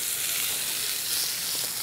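Minced pork sizzles steadily in a hot pan on a gas grill, a dense, even frying hiss that runs close and unbroken with no voices.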